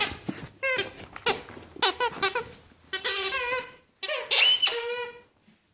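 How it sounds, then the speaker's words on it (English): A rubber squeaky dog toy is squeezed over and over in quick, uneven bursts of high squeaks, loud and close, as a dog plays with it indoors. "This is one of the few toys in the house that still squeaks"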